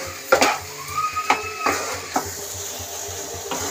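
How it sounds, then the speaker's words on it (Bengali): A spoon stirs sugar into carrot halwa in a pan, giving a run of light scraping and clinking taps with a faint background hum and no talking. "ভালো করে নাড়িয়ে মিলিয়ে নেব চিনিটা দিয়ে"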